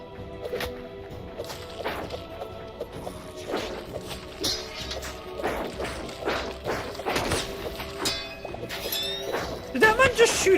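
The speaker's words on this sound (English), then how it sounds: "Did that man just shoot a gun at me?" Hytale gameplay with an enemy firing a musket, sharp thuds and cracks ringing out over game music and ambient tones, a person talking at times.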